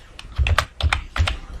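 Close, quick taps on a computer keyboard in short bursts of several keystrokes with brief pauses between, crisp clicks over soft thuds.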